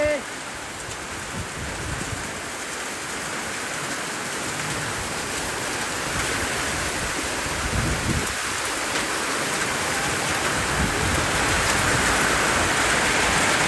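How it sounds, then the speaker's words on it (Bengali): A storm with heavy rain and hail pours down in a dense, continuous roar that holds loud and unbroken from start to end, with no voices standing out. "এই যে এই যে ঝড় হচ্ছে দেখেন ঝড় হচ্ছে"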